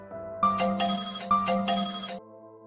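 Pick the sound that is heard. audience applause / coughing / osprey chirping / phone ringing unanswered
phone ringing unanswered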